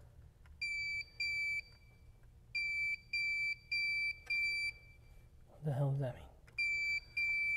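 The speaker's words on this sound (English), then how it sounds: "So we went and got the fancy circuit tester and we can just do this. Hook that up. Bloop." A circuit tester sounds a run of short, evenly paced high electronic beeps in pairs, with a brief pause and a spoken remark between them.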